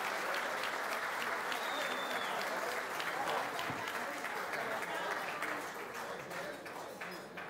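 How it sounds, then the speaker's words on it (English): A crowd applauding at a boxing event introduction in Belfast, dense steady clapping from a sizable audience with a few voices mixed in, moderately distant and slowly tapering toward the end. "Everybody give John a round of applause."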